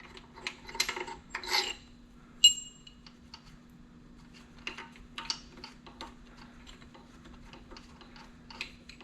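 A wrench turns bolts out of a 4.0 engine core, giving faint metallic ticks, scrapes and clinks that come in short irregular bursts against a steady low electrical hum.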